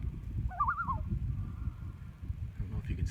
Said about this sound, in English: So I'm listening to a loon right now.